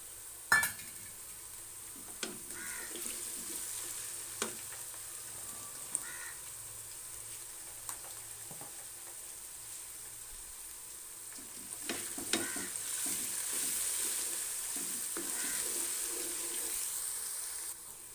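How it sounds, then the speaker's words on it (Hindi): Ginger garlic paste added to toasted cumin fries with a soft sizzle in a pan, with occasional sharp clinks of a utensil stirring, steady throughout with no talking. "अब ये ज़ीरा भून गया, अब इसमें हम ऐड करेंगे अदरक लहसुन का पेस्ट"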